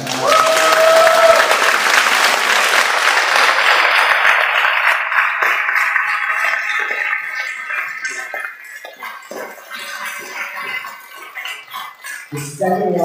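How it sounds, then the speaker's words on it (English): An audience at a game Q&A event at EA headquarters bursts into loud, dense clapping that starts strong and slowly thins out over several seconds, with a few scattered claps and faint voices near the end. "I would like a round of applause for all the guys who come out."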